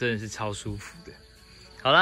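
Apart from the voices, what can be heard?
cicadas and frogs calling at night in the countryside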